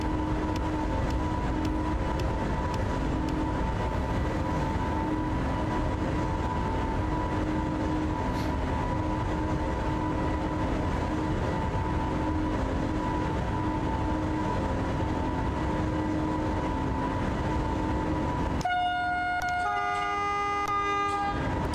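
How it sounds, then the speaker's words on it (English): Heavy freight train rolling steadily in the SimRail simulator, a constant loud rumble with sustained tonal hum throughout, shifting near the end to several bright overlapping tones like horn or signal sounds. "Yeah, it's fun to have some heavy freight trains."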